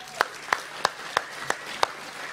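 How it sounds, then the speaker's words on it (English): A live audience claps for about two seconds, sharp hand claps landing roughly every third of a second over a low room murmur. "Give them a hand."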